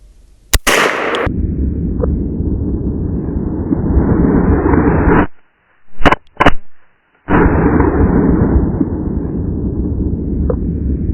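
.357 Magnum revolver fired into a pork butt outdoors: one sharp, loud shot, then a long rushing roar that cuts out and returns with a few brief pops.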